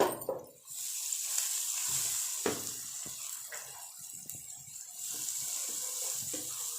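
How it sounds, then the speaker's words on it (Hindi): Water poured into a pan of potatoes and eggs cooking with turmeric, red chilli and salt, a steady close splashing pour over a sizzling background. "थोड़ा सा पानी शामिल करेंगे इसमें।"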